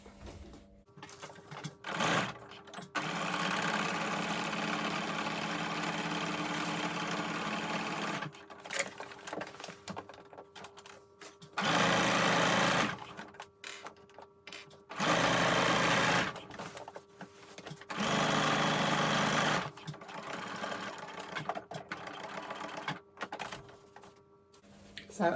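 A domestic sewing machine stitches a slanted trouser pocket seam in several bursts, running steadily for several seconds at a time with short pauses between runs, close and fairly loud with no talking.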